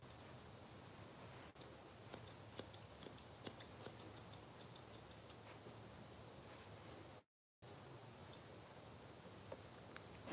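Scissors snip through a Boston terrier's fur in quick, quiet repeated cuts with an irregular rhythm, faint and close against a soft noise floor, with a brief dropout near the end.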